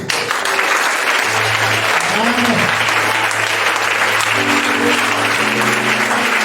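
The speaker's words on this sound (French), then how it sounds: "Acclame Jésus" Church congregation applauding during a French-language Sunday service, steady loud clapping throughout with a sustained tone and voices mixed underneath.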